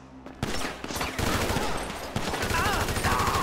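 Rapid automatic gunfire rattles in the video game GTA 5 during a construction-site shootout, with dense loud bursts of shots continuing after a short gap and a faint whine near the end.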